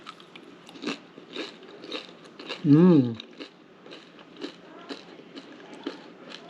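A single crisp crunch as someone bites into a crispy Vietnamese banh xeo crepe dipped in sauce, with a murmured hum of approval and light handling noise around it.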